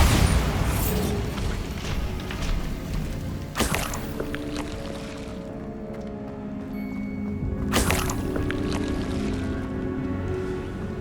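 Bombarda blasting spells in Hogwarts Legacy go off as two sharp, loud bursts several seconds apart over a continuous rumbling, churning game background.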